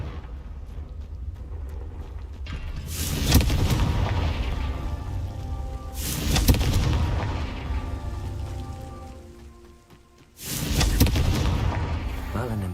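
Confringo blasting-spell explosions in the Hogwarts Legacy video game, three loud booming blasts a few seconds apart over a steady rumbling game background.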